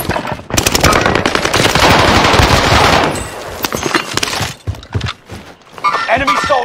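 Rapid machine-gun bursts ring out in a first-person shooter, loud and sustained for about three seconds and then breaking into scattered shots, with a player talking over the action.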